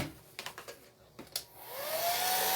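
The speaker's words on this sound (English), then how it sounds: "I'm going to get out my hairdryer and dry that" A hair dryer starts up and runs with a rising whine to dry a chalk paste craft project, preceded by a few soft taps and handling knocks, close and steady, no talking.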